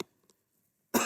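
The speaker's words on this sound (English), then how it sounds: "Sorry for the cough in your ears." A single sharp cough, loud and close, at the end of an otherwise quiet stretch of a physics lesson, with a faint throat noise earlier.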